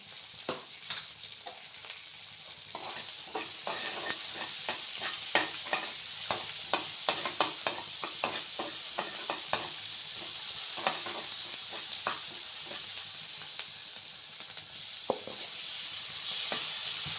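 Onions sauté in a pan with a continuous sizzle and rapid, regular spatula scrapes and knocks, close and busy from start to finish.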